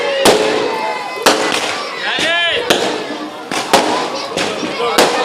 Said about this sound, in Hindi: पटाखा मत फोड़ो।